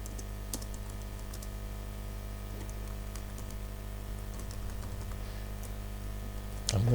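Code being typed on a computer keyboard in a quiet room, with scattered soft key taps over a low steady hum and a slightly louder burst of keystrokes near the end.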